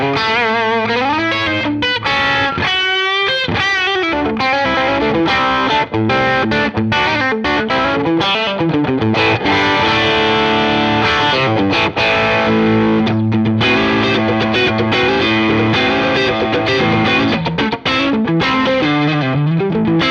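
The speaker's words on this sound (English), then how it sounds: "Let's hear the SD1, one of my favorite drives of all time. This is the 40th anniversary edition" An electric guitar runs through a Boss SD-1 Super OverDrive pedal, 40th anniversary edition, into an amp, producing a loud, crunchy overdriven tone across continuous riffs, bends and chords, close and steady with no talking.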